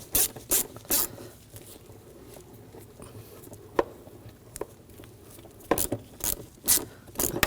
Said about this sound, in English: I'm going to use a 6mm socket, loosen up this worm clamp